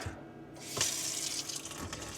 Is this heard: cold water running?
yes